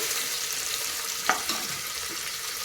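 Soaked peas frying slowly in a pan over a low flame, a soft continuous sizzle with a couple of faint stirring scrapes, quiet and close with no talking.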